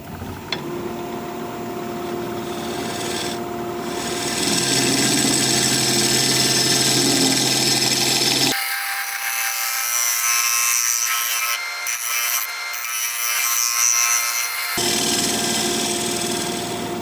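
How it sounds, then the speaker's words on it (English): A negative rake scraper works a mulberry live-edge wood bowl spinning on a lathe, giving a steady close rubbing scrape over the motor's hum, with a brief quieter break partway through. "let me put a fresh edge on my negative rake scraper and we'll scrape."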